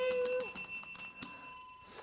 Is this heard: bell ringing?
yes